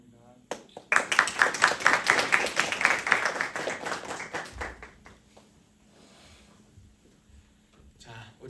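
A military church congregation at a Thanksgiving Sunday service breaks into brisk, fairly close applause for newly baptized members, rising sharply and thinning out after a few seconds, followed by quiet room tone with faint speech.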